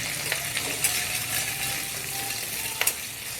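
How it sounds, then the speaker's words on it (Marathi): Sliced green chillies and capsicum sizzle steadily in hot oil for a paneer dish, a continuous close frying hiss with a few brief clinks of a stirring spoon and no talk. "4 ते 5 हिरव्या मिरच्या अशा लांबसर कापलेल्या घालून घ्यायच्या, त्या देखील 1 मिनटापर्यंत फ्राय करून घ्यायच्यात"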